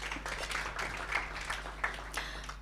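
An audience claps together at the official launch event of a marketing company, a fairly faint scatter of claps with a few sharper hits, heard without speech.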